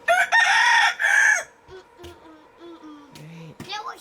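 Roosters crow loudly and close by in a farmyard flock, a long strained crow at the start followed by softer clucks and short calls from the chickens.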